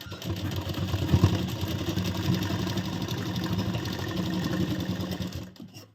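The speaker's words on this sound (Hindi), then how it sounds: "फिर इसको हम इस तरह उल्टे साइड मेन सिलाई लगाएंगे।" A sewing machine runs in one steady, close burst, its needle chattering rapidly and evenly while stitching the main seam on the reverse side of a princess-cut deep-neck blouse, then stopping at the end.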